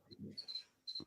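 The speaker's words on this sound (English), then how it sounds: "Are they your crickets, Jackie?" Kept pet crickets give a short, sharp chirp, then a longer loud trill and another burst, close by, with a faint murmur of voices underneath.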